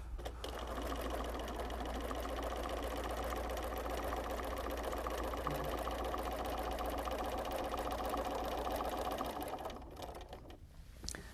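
Sewing machine running steadily while free motion quilting, a continuous rapid stitching whir that holds for about ten seconds before easing off near the end, close and loud.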